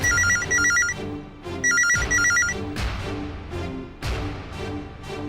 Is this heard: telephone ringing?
yes